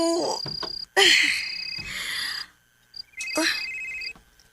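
A phone rings with an incoming call in a drama scene, sounding in repeated bursts of electronic ringtone with short pauses between them.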